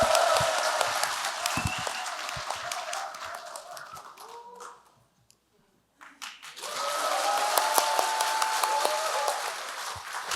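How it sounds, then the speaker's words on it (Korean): A packed National Assembly auditorium applauds the opening speaker at the launch ceremony of a rural basic income alliance. Dense, sustained clapping fades almost to silence midway, then swells back up and carries on steadily. "여러분 큰 박수 부탁드립니다."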